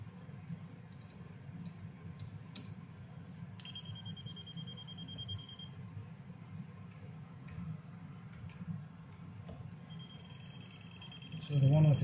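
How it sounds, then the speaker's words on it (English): A no-contact voltage tester held near a live wire in an RV camper's GFI receptacle wiring gives two sustained high electronic beeps, each lasting about two seconds, over a steady low hum with faint ticking and handling sounds. "We have our no contact tester here."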